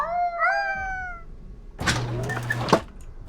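A cat in the video game Order 13 meows twice in a clear, rising tone, then a rougher, louder yowl follows with a thudding noise underneath.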